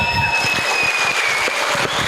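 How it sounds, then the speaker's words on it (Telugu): A seated audience at a boot camp training session claps together in a dense, steady burst of applause, close and loud, with a faint high whistling tone lingering over it. "గ్రాండ్ క్లాప్స్ ఇద్దాం"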